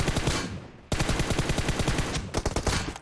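Rapid automatic gunfire in the video game PUBG Mobile, two loud close bursts of fast repeated shots separated by a brief gap, with no talk over them.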